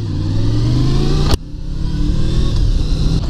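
A 1991 Honda VFR750F motorcycle with gear-driven cams, its engine running loud and close with a steady rumbling drone, a brief sharp knock partway through, then the engine note continuing as the bike pulls away.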